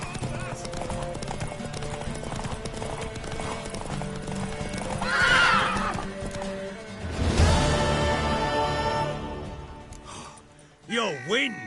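Horse hooves clip-clop steadily with a loud neigh and snorts in The Witcher 3: Wild Hunt, close and prominent under a busy game soundscape, with a whinny near the end.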